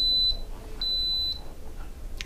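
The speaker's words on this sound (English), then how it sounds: "Give it a couple seconds, it'll beep." An Aicok electric pressure cooker gives two clear, high electronic beeps after being programmed, each about half a second long, over faint room noise.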